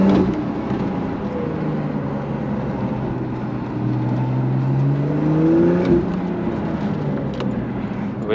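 Porsche 911 991.2 GTS with a twin-turbo engine accelerating hard, a steady rising engine drone with climbing harmonics that sweep upward through the gears, loud and continuous from start to finish.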